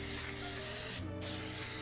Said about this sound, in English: spray them with more cooking spray on the top